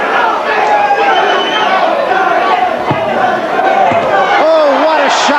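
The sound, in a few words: boxing crowd cheering in support of Jose Ribalta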